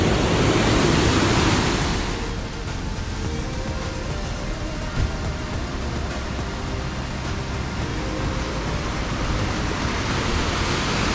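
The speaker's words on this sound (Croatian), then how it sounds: "I spektakularno se završava sa ovim prekrasnim vodopadom u Jajcu." The Pliva river waterfall in Jajce roars as a broad, continuous rush of falling water, loud and steady with no breaks and no voices.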